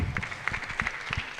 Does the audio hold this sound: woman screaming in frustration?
no